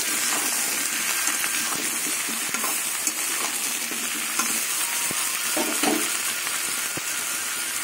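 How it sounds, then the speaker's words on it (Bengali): Vegetables frying in a pan with softened onion, a steady, close hiss and sizzle of oil with occasional stirring scrapes, continuous and fairly loud. "পেঁয়াজটা নরম হয়ে গেছে, এবার আমি সবজিগুলো দিয়ে দেবো। সবজিগুলো ভেজে নেব।"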